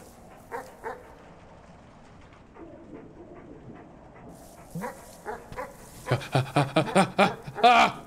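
A dog in a video game barks and whimpers, starting with a few faint yips and whines and building into a rapid run of louder barks near the end, with no talk over it.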